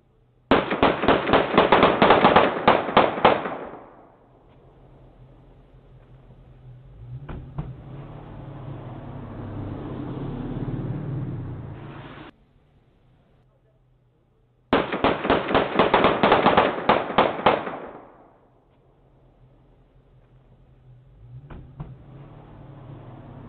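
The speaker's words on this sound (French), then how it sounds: "on voit des gars qui sortent d'une voiture et qui tirent des coups de feu" Gunshots fired by men stepping out of a car, caught on a surveillance recording: two rapid bursts of sharp cracks a few seconds long, each followed by a duller rumble of movement, with quiet stretches between.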